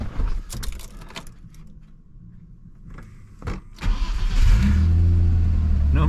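A small Avant loader engine cranks and catches after a few quiet clicks and rattles, then settles into a loud, steady idle that runs evenly to the end.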